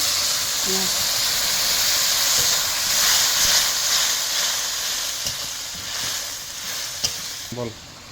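Garlic paste and a splash of water fry in a pan for a rohu fish curry, a loud continuous sizzle and hiss with a few stirring scrapes, a voice briefly speaking near the end.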